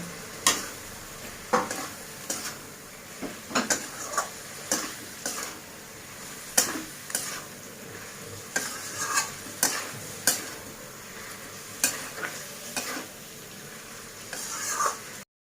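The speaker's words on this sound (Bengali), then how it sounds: "এবার আমি ফুলকপিগুলো দিচ্ছি। ফুলকপিগুলো দিয়ে আরো একটু কষিয়ে নেব।" Cauliflower florets being stirred and sautéed with spices in a pan for a cauliflower and prawn curry, a low sizzle under rhythmic spatula scrapes and knocks repeating every second or so.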